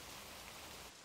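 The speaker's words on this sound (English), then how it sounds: "Twilight, it's raining." Cartoon rain pours from a rain cloud as a steady, hissing downpour, even and close, cutting off abruptly near the end, with no voices.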